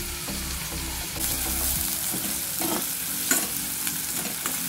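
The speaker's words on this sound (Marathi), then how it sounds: "कांदा आणि टोमॅटोही थोडंसं असं मऊसर झालेलं आहे तेलामध्ये परतून छानपैकी" Onion and tomato sauté in hot oil for palak paneer gravy, a steady close sizzle with repeated scraping stirs of a spoon in the pan and no talking.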